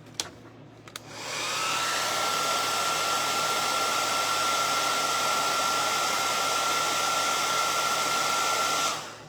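A hair dryer switches on after a couple of brief clicks and blows a steady, loud whir close by for several seconds while drying paint on a painted rock, then begins to cut off, with no talking.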